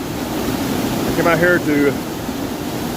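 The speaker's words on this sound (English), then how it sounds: "the waterfall is a little smoother, but we've got a lot of water here today" A high-running river waterfall roars steadily as a broad wash of rushing water, while someone speaks briefly over it.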